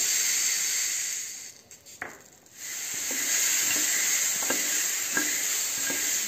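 Fresh green peas roasting in a pan give off a steady soft sizzle and hiss, broken by a few faint clicks and taps as they are stirred, with no talking.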